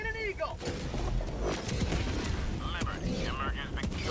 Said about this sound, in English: Calling in orbital strike.